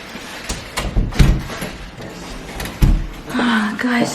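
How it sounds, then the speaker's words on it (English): A home garage door being closed, heard as a few close thumps and rattling knocks with a heavier thud near the end, while people talk over it. "Can you close the door, please"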